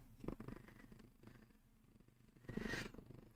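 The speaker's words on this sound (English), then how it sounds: "he's purring too hard" A cat purrs quietly and very close, in soft rhythmic swells that rise and fall with its breaths, the second swell a little louder.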